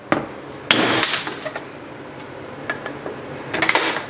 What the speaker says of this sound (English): Use this using a flathead screwdriver and a hammer